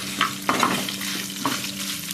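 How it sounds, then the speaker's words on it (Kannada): Spices for potato gasi sizzling and frying steadily in a pan, with occasional stirring scrapes over a continuous crackle, close and moderately quiet. "ಚೆನ್ನಾಗಿ ಫ್ರೈ ಆಗಲಿ."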